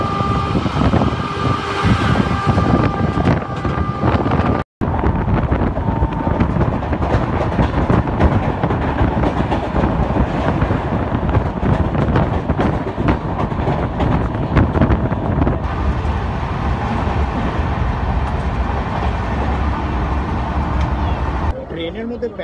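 Steady, loud rumble and rattle from inside a moving Indian passenger train, with wind buffeting the microphone throughout and a momentary dropout near the start.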